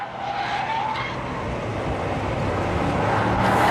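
Jaguar XKR tires skidding through a sideways drift, a loud continuous rush of tire and engine noise that holds steady and builds slightly toward the end, with no talking.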